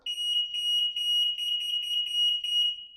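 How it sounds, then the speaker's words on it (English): Electronic horn sounding from the headlight of a Meelod DK300 Max e-bike, a continuous shrill high-pitched warble that trills steadily for about three seconds at moderate volume with no talk. "this bike does come with a horn. Now, it's not an actual horn. It comes from the headlight, but this is how it sounds."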